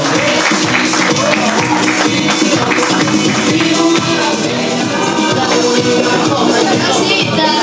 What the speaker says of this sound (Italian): Un applauso per il nostro pagliaccio!